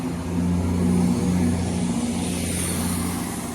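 Cross Country train 17117 passes through Tamworth station with a loud, steady engine drone that swells and then holds, the rumble carrying on without any voices over it.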